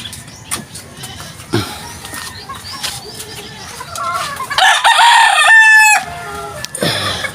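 A rooster crows loudly and close by in a long drawn-out call, with scattered clucks and soft background sounds around it.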